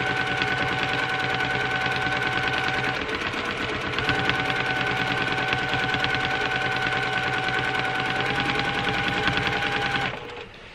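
A domestic sewing machine runs fast and steady while free-motion quilting circles, its needle chattering in a continuous close rhythm before stopping abruptly at the end.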